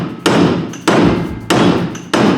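A hammer taps a bolt down into depth bands on a trash whipper row cleaner, four close, sharp metallic blows in a slow, even rhythm, each ringing briefly before the next.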